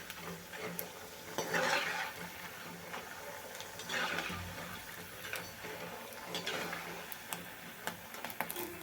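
Sabudana and potato chakli frying in hot oil: a soft, continuous bubbling sizzle with scattered crackles and light ticks of utensils against the pan, heard up close without speech.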